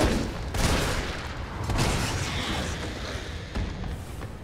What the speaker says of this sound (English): 3 shots with the shotgun puts them down